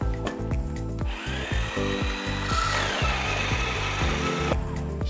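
Coffee beans being coarsely ground for French press iced coffee, a loud, close, continuous grinding with a rhythmic stuttering churn and gritty crunching throughout.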